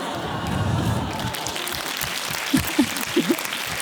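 A small crowd at a French stand-up comedy open mic gives scattered, modest applause, with a few distinct claps standing out near the end and a voice speaking.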